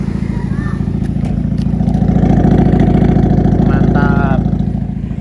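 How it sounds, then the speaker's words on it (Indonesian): A 2009 Honda Civic FD 1.8 automatic running on an aftermarket exhaust, a loud steady low rumble with pulsing harmonics close by, while a person talks intermittently over it. "Kita lihat suara knalpotnya ya."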